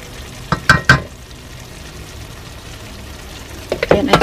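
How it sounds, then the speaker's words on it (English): Pork adobo frying in a pan is stirred, giving a few short scraping clatters early and again near the end over a low steady sizzle. "Just mix them up till it's cooking."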